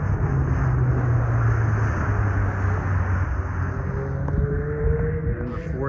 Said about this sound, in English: There goes some of the cars down the main street right now.